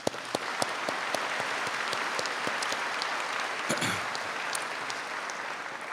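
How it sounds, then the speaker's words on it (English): An audience at the West Kentucky Community Technical College spring 2019 commencement claps for the board members: a steady, crowded patter of applause with scattered sharper claps, sustained evenly throughout. "Please give them a round of applause."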